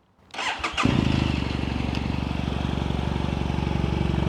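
A BMW F800GS motorcycle fitted with an Akrapovic exhaust turns over with a short starter churn, then fires into a throaty, evenly pulsing idle heard close by, with a deep rhythmic thump.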